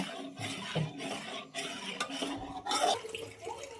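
Water and salt going into a cooking pot of soaked moth beans with turmeric, an irregular close splashing and trickling with scraping clinks against the vessel, moderately quiet.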